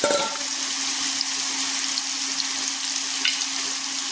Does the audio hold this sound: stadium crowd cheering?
no